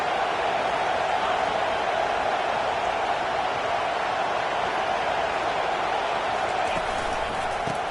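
Steady stadium crowd roar at an LSU college football video game, a dense wash of cheering that holds evenly throughout with no distinct claps or calls standing out.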